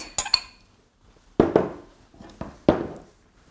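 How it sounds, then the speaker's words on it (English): A utensil mixes tomato, cucumber and lemon zest tabouli in a bowl, making a few sharp, close clinks and knocks separated by brief quiet pauses. "you can just gently mix through the tomato, cucumber"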